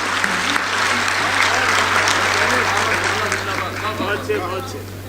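Audience applause at an Urdu poetry mushaira, a dense sustained wash of many hands clapping with crowd murmur and a few voices beneath, steady and fairly loud before tapering slightly toward the end.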